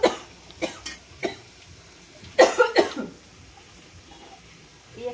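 A person coughs several times at close range in a quiet room: single harsh coughs spaced out at first, then a tight cluster of louder coughs midway, followed by a final faint one.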